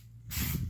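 A short hiss of filter oil sprayed onto a foam air filter from a maintenance kit for a 2018 Husqvarna 701 motorcycle, starting abruptly after a quiet moment and lasting about half a second, close and fairly loud.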